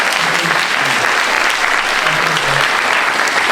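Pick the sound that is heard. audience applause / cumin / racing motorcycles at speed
audience applause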